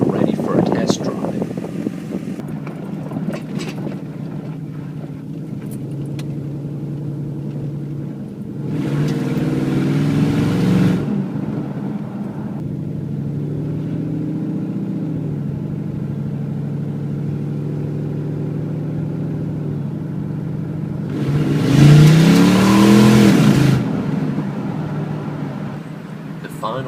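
Car with a loud modified exhaust revving on a test drive, engine drone steady throughout with two louder revving surges, the second strongest near the end; a voice speaks over parts of it.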